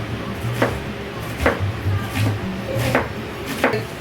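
A knife cutting a washed onion into julienne strips on a board, five or six distinct chopping knocks at an uneven pace, close and fairly quiet.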